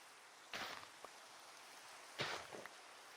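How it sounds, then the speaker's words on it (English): Rain falls in a Minecraft world as a faint, steady hiss, with two brief louder bursts of patter swelling in and fading away. "Oh, and it's raining."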